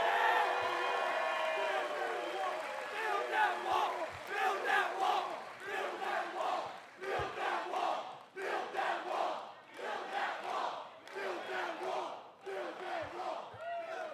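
A large political rally crowd in Newtown, Pennsylvania cheers and roars continuously, with bursts of shouting and whooping rising and falling in waves, loud and close throughout.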